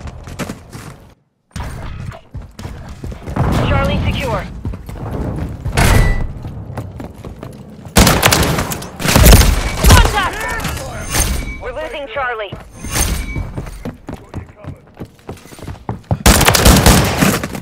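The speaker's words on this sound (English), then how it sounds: "Taking effective fire!" Gunfire in the video game Call of Duty: Modern Warfare III, loud bursts, impacts and booms amid chaotic battle noise, with voices calling out over the shooting.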